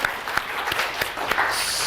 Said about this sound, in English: a big round of applause for our guinea pig here